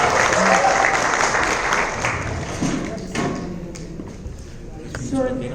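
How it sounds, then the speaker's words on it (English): An audience at a company annual day event claps for a colleague called to the stage, steady applause that thins out, with a voice speaking over it and some scattered knocks. "Round of applause, please"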